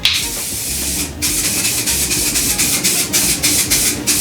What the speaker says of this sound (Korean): 스타일링이 다 잡혔다 싶으면 그때 하드 픽서